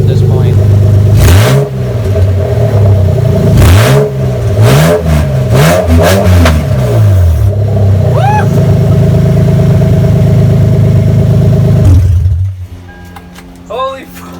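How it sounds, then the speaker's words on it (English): Lexus IS300 with open headers revving hard, several sharp rising and falling blips over a loud, rough idle, close up, before the engine is shut off and a voice is heard. "We're gonna get a couple revs in, and then we're gonna cut the car off because it's just so obnoxious at this point."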